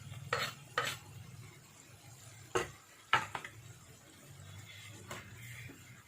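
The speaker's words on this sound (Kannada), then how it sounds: "ಟೊಮೆಟೊನ ಈಗ ಇದರಲ್ಲಿ ಸೇರಿಸ್ತೀನಿ" Sharp clinks of a utensil against a pan ring out as tomatoes go into finely chopped ridge gourd cooking on the stove, a few spaced taps and scrapes over a faint low sizzle.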